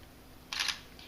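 A Sony A6300 mirrorless camera fitted with a silicone case fires its shutter once, a short, crisp, faint mechanical click in a quiet room.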